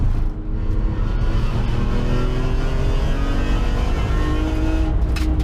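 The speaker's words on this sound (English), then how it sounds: "I'm just warming up the car here, so I'm not going completely flat out just yet." A race car's engine drones loud and steady at part throttle during a warm-up lap of a track day at Bedford Autodrome, with no talk over it.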